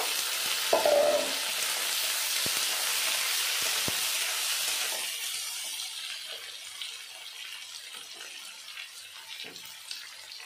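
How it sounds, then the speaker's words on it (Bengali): Chopped onion and tomato fry in a pan of oil for a spicy Bengali egg curry. A steady broad sizzle holds close and loud for several seconds, then fades to a softer crackle with scattered small pops. "লবণ দিলে তাড়াতাড়ি পেঁয়াজ আর টমেটোটা ভাজা হয়ে যাবে।"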